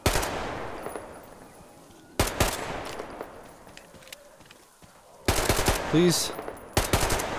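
Gunfire from a weak, low-ammo gun in Metro Exodus on Xbox One X, several sharp bursts of shots separated by quieter gaps, with a brief spoken word among them.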